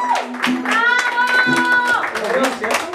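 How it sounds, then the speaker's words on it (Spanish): Hands clap along at a mariachi serenade for a bachelorette party, the clapping steady and close beneath sustained musical tones and voices. "Ese aplauso que se escuche"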